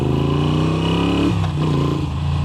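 Moto Guzzi V7 Stone fitted with an upgraded aftermarket exhaust, its engine revving loudly and close, a deep throaty note that rises then drops as the throttle is released, alone without talk.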